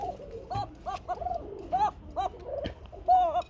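Male pigeons of a Bombay coca breed cooing in repeated rhythmic calls, close and fairly soft, with brief gaps between phrases and faint background voices.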